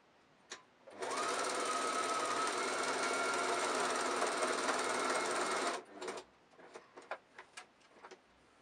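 A sewing machine stitching a zipper pouch runs steadily for about five seconds, close and clear, framed by a few quieter clicks and taps before and after.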